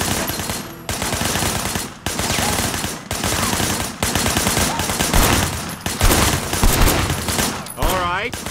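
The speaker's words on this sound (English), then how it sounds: "I want you to put some bullets in a few things" Gunfire in the video game Sleeping Dogs: loud, sustained bursts of automatic fire in repeated volleys separated by brief gaps, with a voice talking underneath and a swooping sound effect near the end.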